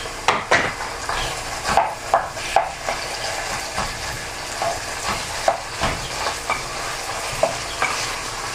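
Chicken pieces going into a pan of bihon noodles, with sizzling and frying under repeated sharp stirring clacks and utensil scrapes against the pan, close and fairly loud throughout.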